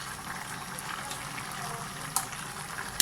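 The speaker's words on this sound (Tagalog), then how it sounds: "Palambutin po muna natin itong ating ginayat na kamansi sa pangalawang gata." Sliced kamansi breadfruit simmers in coconut milk, giving a steady bubbling, hissing boil with small pops throughout, fairly close and with no talking.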